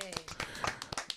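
A few people on a morning radio show give a brief burst of quick, light claps, quiet and scattered over roughly a second, with a voice present.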